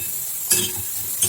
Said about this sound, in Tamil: இப்போ இதில் வெங்காயம் வதங்கிடுச்சு